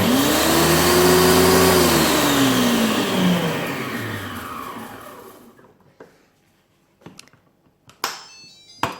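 Monsieur Cuisine Plus food processor run on turbo: a loud motor whine that spins up then winds down over a few seconds, followed by quiet with a few sharp clicks and knocks of the machine.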